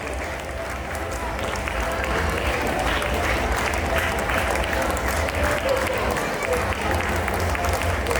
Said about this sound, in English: Please encourage them with a big round of applause.